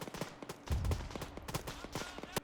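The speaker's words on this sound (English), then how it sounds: "Oh, I'm hearing some explosions." Muffled booms and sharp cracks of video game explosions and gunfire, several in quick succession, moderately loud and somewhat distant.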